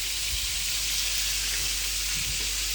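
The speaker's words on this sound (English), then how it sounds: "the sauce is boiling now" Tomato sauce for spaghetti and meatballs bubbles and sizzles steadily in a pan, a soft continuous crackle with a few low pops, close and fairly quiet.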